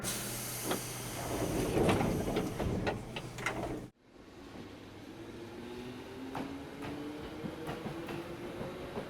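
A train rumbles and hisses close by at a station platform, then a sharp cut gives way to a rising electric whine as it pulls away, steady and continuous.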